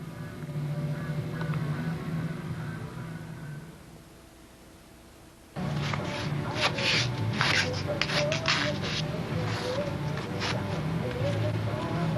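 A strip of thin tape is rubbed against a shirt, a close, rough brushing scrape that starts abruptly after a quieter stretch and continues in quick repeated strokes, with a faint background hum beforehand.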